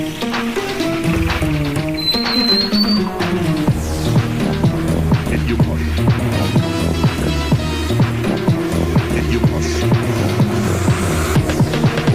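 A modified Pulsar motorcycle, built up to resemble a KTM RC8, is ridden along a road. Its engine gives a close, continuous droning hum with steady rhythmic pulsing throughout.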